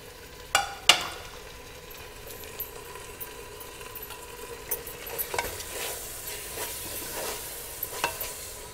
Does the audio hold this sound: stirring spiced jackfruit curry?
yes